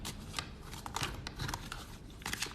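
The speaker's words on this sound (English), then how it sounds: "Come on, shuffle this right." Tarot cards are shuffled by hand in quick, soft riffling bursts of papery flutters and light snaps, faint and close, with no talk.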